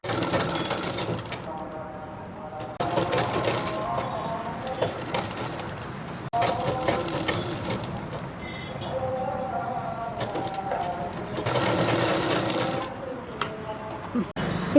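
A sewing machine stitches a sleeve onto a men's kurta in fast rattling bursts separated by short pauses, close and fairly loud.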